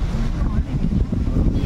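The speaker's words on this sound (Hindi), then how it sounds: "तेज है बाहर बारिश" Heavy rain pours outside a car on a cold day, making a steady, dense rumble that stays loud and unbroken throughout with no distinct drops or pauses.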